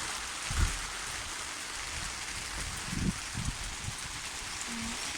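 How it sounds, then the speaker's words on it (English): Steady rain patters down across the whole stretch, a dense hiss with a few heavier nearby drips and thumps. "we're doing our favourite thing, which is listening to the rain"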